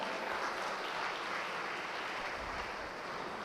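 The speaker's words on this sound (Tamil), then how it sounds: "அதற்கு கைத்தட்டுங்கள் அவர்களுக்காக." An audience claps for a few seconds in a hall during a Tamil talk, a steady, moderately loud wash of hands with no voices over it.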